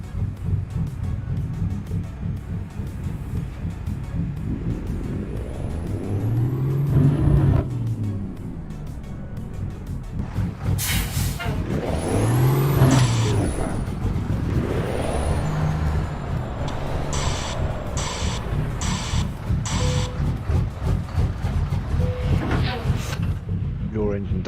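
In the Euro Truck Simulator game, a truck engine fitted with a Cummins sound mod rumbles continuously with rising and falling revs and hissing air-brake bursts, while people talk over it.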